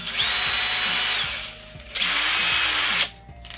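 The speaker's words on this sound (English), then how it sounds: "I'm just going to drill it out" A power drill whirs loudly in two bursts separated by a brief pause, its motor winding up and down as it bores through material.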